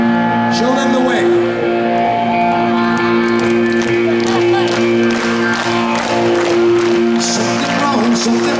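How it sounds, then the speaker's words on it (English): A rock concert crowd at a show in Oshkosh, Wisconsin claps and cheers loudly and steadily over sustained amplified music, with shouts rising from the audience throughout. "I wanna hear you clapping as loud as you fucking can"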